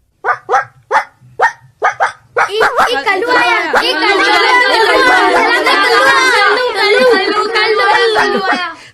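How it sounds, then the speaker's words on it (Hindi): A dog barks in a school classroom, several sharp, close barks at the start, then excited children chatter loudly over the rest. "किसका कुत्ता है ये?"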